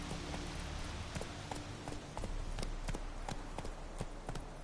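Roach, the horse in Witcher 3, gallops with a rapid, regular clip-clop of hooves, loud and close over a steady rushing background of game ambience and wind.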